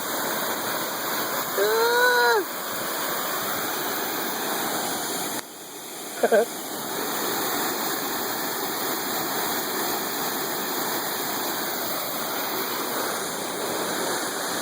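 A waterfall at Mount Rainier roars steadily and loudly throughout, a constant wash of rushing water, with a couple of brief whistle-like sounds rising over it early on.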